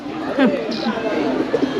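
Pigeons cooing close by at a bird park, a few soft throaty coos over light crowd chatter and people talking in the background.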